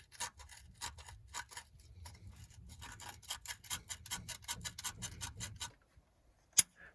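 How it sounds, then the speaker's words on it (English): Ignition points are rubbed with emery cloth in quick, rhythmic scratching strokes, close and fairly quiet, then a pause and one sharp click at the end. "Clean up points with some emery cloth here"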